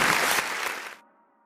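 A dense burst of audience applause after a song on a radio broadcast, loud and steady for about a second, then cut off abruptly into near silence.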